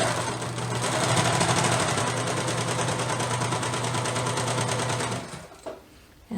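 A serger stitches and trims the edge of a fleece blanket, a loud, fast, steady mechanical whir with rapid needle and blade chatter close by, running about five seconds before winding down.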